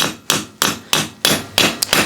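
A 2-pound hammer striking a socket while seating a part on a Willys Jeep rear disc brake conversion, six sharp metallic blows at an uneven rhythm, each ringing briefly before the next.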